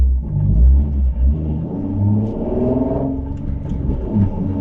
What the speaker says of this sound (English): I have this Charger next to me that's gonna, of course, try to speed up past me so that way it can get into the merge lane